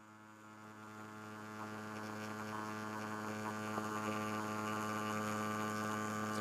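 A Yilong adjustable-stroke tattoo machine set to a 2.3 stroke runs as a steady, faint electric buzz with a rich harmonic drone, growing slightly louder as it goes.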